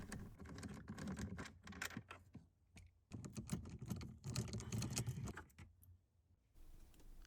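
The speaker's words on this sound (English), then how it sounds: "And now we're going to remove the 2 T30 Torx bolts." Torx T30 bolts being removed from under the glove box of an Alfa Romeo Giulia or Stelvio, with close, irregular clicking and ratcheting taps in bursts separated by brief pauses.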